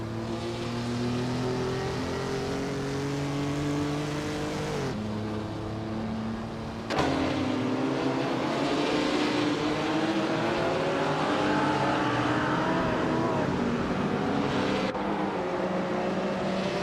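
Race cars in mixed classes scream through the turns of a circuit race, engines droning and shifting pitch as they brake and accelerate, with several cars layered close and loud and abrupt cuts between them.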